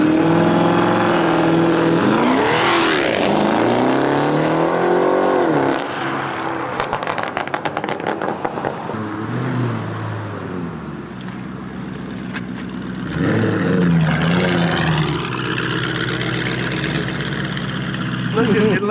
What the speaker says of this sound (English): You've never seen a Urus take off like this, especially on 24s.